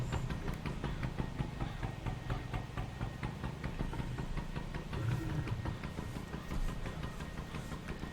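A tractor engine in Farming Simulator 17 runs steadily throughout, a continuous mid-pitched drone with regular rhythmic pulsing and no talk over it.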